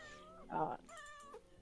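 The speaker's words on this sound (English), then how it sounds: "You hear more and more cats starting to head towards the kitchen." Cats meow in a quick sequence, one short bright mew followed by a longer drawn-out meow, close and moderately loud.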